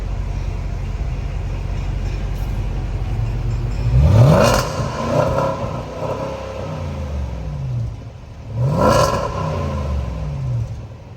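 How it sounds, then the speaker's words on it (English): A 2022 Range Rover Sport P525 Autobiography V8 revs hard twice through its exhaust, each blip rising to a loud roar and then crackling and spitting as it settles back to a steady idle. "I am actually going to let you all hear the exhaust sound just a little bit to see how it spits it out a little bit."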